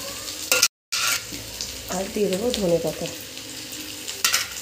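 Spices with grated garlic and ginger frying in a pan, a close steady sizzle with scraping stirs throughout, a brief gap near the start and someone talking briefly over the cooking.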